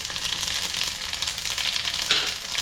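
Whole garam masala spices frying in oil for yakhni pulao, a close, continuous bright sizzle and crackle with a small spatter burst near the end.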